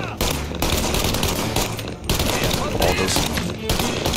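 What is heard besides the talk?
gunfire emptying a whole magazine, Mafia: Definitive Edition video game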